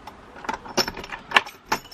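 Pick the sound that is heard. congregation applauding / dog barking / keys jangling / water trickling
keys jangling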